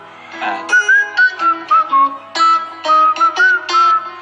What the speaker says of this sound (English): would whistle a tune and I have to try and figure it out on the guitar